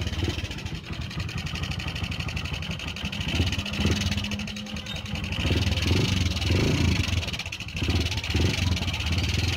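A Honda Verza motorcycle engine runs roughly at idle with a low, uneven knocking chug that rises and falls slightly, close by, with faint voices under it.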